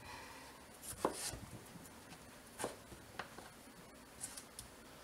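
A large knife cuts through pumpkin being prepared for canning, giving a few sparse, quiet chopping and scraping strokes against a mostly hushed background with no talking.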